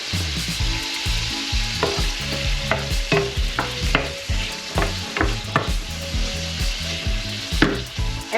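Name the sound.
cuttlefish and monkfish sautéing in oil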